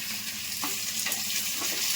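Mustard seeds and turmeric frying in hot oil give a close, continuous sizzle with scattered crackles and small pops, no voices.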